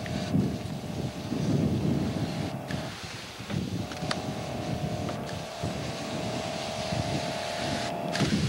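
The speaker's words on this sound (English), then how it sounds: "We have a nice breeze here." A breeze blows outdoors on a roof, heard as steady wind rumble and buffeting on the microphone with a faint hum and a few sharp knocks, with no talking.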